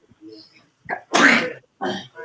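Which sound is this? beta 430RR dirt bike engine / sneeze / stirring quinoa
sneeze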